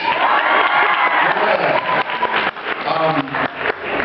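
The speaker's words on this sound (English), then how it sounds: "cheer for marriage!" A comedy club audience cheers, whoops and applauds loudly and continuously, a dense crowd roar with shouting voices.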